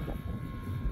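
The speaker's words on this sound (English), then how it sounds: "The spinner rattles a little bit. That's why you're hearing that noise." Wind rushes across the microphone alongside the low drone of a Dynam FW 190 Butcher Bird V3 RC plane whose spinner rattles slightly, a continuous, dense rumble over a very brief stretch.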